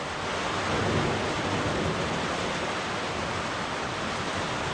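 A thunderstorm heard from inside a metal shipping container, with heavy rain drumming as a dense, steady roar on the metal and a low rumble of thunder swelling early on, loud and continuous with no voices.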